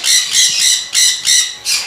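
Pet birds in a bird shop selling finches and parrots give about five shrill, close squawks in quick succession, loud and sharp with brief gaps between them.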